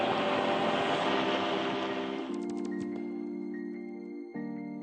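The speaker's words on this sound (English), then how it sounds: "Okay, we'll throttle up on the left engine." The left engine of a twin-engine AirCam aircraft changes pitch, its droning hum shifting in stepped tones as the throttle moves, heard fairly close and steady throughout.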